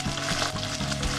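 Ginger and garlic paste hits fried chopped onions in a pan, giving a dense, continuous loud sizzle with scraping stir strokes throughout; no talking, during preparation of a mixed vegetable navratan curry.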